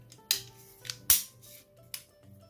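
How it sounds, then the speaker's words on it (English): Crisp metallic clicks from an AR rifle's trigger and safety selector being worked during assembly, three or four distinct snaps, close and fairly loud, with no talk. "So pull the trigger, nothing happens. Fire, click."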